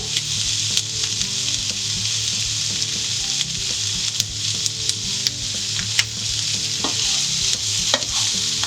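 Onions frying slowly in a pan over medium heat, a steady, dense sizzle with crackly pops throughout, close and loud, with no talking.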